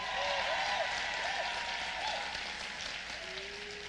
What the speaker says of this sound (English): So graduates, give them a round of applause